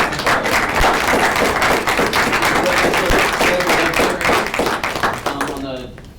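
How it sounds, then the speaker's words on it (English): Applause at a town council meeting, a moderate group clapping with distinct individual claps audible, a voice speaking faintly underneath, fading as a speaker begins at the end. "let's give her a big round of applause."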